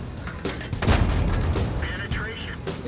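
Easy 8 tank trading fire with a KV-2 heavy tank in World of Tanks: booming cannon blasts and rumbling battle noise, close and fairly loud, with a few sharp impacts.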